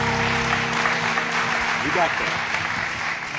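A game-show studio audience claps in a steady, dense burst of applause, loud and sustained, while a host speaks over it.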